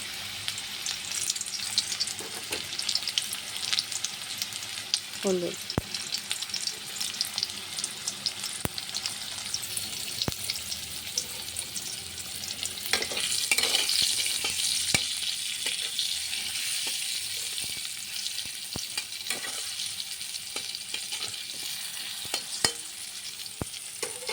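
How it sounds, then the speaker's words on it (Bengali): Steady sizzle of potatoes frying in a pan fills the whole stretch, with occasional scraping stir sounds and clinks of a utensil in the pan. "আলুটা ভাজা হয়ে গেছে"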